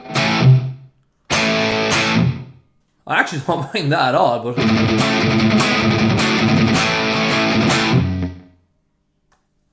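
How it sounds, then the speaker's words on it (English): Distorted electric guitar played through the Valeton GP-200 multi-effects unit's stock room reverb, loud chords and a lead line with short decaying tails and gaps between phrases, followed by a brief spoken comment. "Let's put on just the stock reverb that the Valeton GP200 has to offer. This is just a room reverb."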